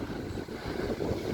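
Wind gusts steadily on a microphone outdoors on a boardwalk, a continuous close rumbling buffet with no talk.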